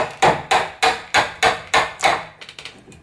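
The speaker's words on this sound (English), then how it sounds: "And then you want to just get your hammer and tap it from the bottom up." A hammer taps a chisel upward to cut out a door latch section: about seven sharp, evenly spaced strikes close up, followed by a few lighter, quicker taps, with no talking.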